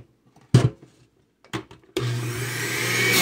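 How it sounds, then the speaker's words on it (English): A kitchen juicer starts up with a loud steady motor whine while whole vegetables and fruits are fed in, preceded by two brief knocks as produce is dropped into the chute. "Okay, you're going to go right in the blender, no pieces, no need to be cutting pieces."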